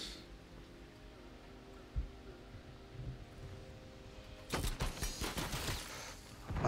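Gunfire in a shooter video game: a single distant shot, then a dense burst of rapid shots toward the end over a low ambient game background.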